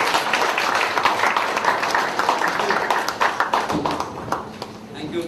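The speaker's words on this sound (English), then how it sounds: "Please give me a huge round of applause." Audience applause at a medical gathering as proceedings are handed to the next speaker, a dense, sustained clapping from a crowd, close and steady, thinning slightly toward the end.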